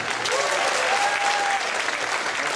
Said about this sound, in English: How many people have tried balloon? Round of applause.